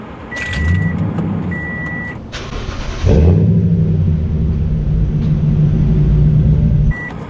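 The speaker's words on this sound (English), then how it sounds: "today we're going to do a video on my Flowmaster Super 44 exhaust" A deep, steady exhaust rumble from a 5.7L Toyota Tundra with a Flowmaster Super 44 exhaust idles and swells in a parking garage, jumping louder around midway, with a few short electronic beeps near the start and end.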